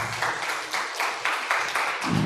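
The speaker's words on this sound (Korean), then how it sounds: "박수 한번 쳐주세요." A church congregation at a Sunday afternoon youth teachers' dedication service applauds, a broad, steady wash of many hands clapping that swells briefly near the end.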